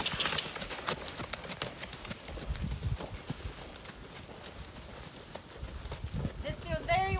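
A previously wild pony trots under a rider, hooves clip-clopping in a quick, irregular rhythm close by, while a person speaks over the footfalls.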